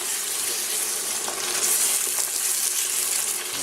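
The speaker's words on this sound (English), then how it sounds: "You scrape what they call the fond off the bottom of your pans" A pan sizzles steadily as the bottom is scraped and deglazed with tomato sauce for Greek meatballs, giving a bright continuous fry with faint scraping touches and no talk.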